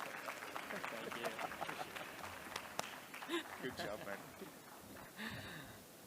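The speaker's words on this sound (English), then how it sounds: "So please give Akash a round of applause." Audience applause at a health innovation pavilion conference session, a scattered round of clapping heard fairly faintly beneath busy room chatter and other voices.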